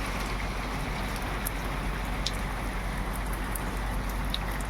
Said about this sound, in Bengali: তোমরা বাইরে কিরকম বৃষ্টিটা হচ্ছে শুধু দেখো তোমরা একবার